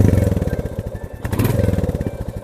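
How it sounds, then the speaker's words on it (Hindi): A Royal Enfield Classic 350 with its stock exhaust runs steadily close by, a rhythmic thumping beat that stays fairly subdued, briefly dipping then settling back to the same pulse. "क्लासिक 350 को ऑन करते हैं"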